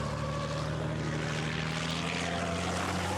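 Diesel engine of a racing truck revving hard at the Hungaroring circuit during qualifying, a loud, steady, droning roar held throughout without breaks.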